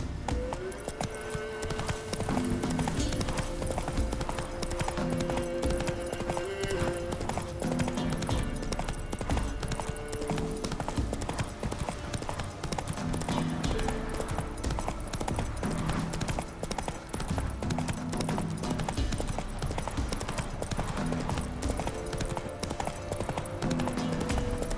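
Roach, a horse in The Witcher 3, gallops with a steady, loud clip-clop of hooves that runs throughout, layered over constant game music and ambient sound.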